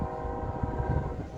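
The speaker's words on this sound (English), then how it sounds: "nice train." A train rumbles past close by with a steady, loud low roar and a sustained horn-like tone layered over it, heard briefly without talk.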